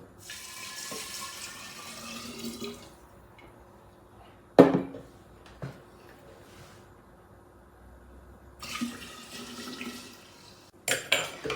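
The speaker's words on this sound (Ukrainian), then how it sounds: "Тепер додаємо наш спиртовий розчин в основну тару." Alcohol solution poured into the main jar while making Kontushovka liqueur, heard as two bursts of steady liquid splashing separated by quiet, with a few sharp glass clinks in between.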